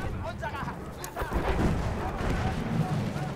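Bombs explode in the Battlefield 1 video game as deep booms and rumbling blasts roll under constant battlefield noise, with a louder burst of impacts in the middle and someone talking over it.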